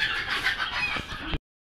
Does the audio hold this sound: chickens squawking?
yes